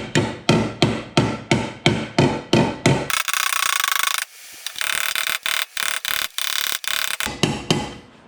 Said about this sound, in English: take a hammer inside the strut tower and just push it all out.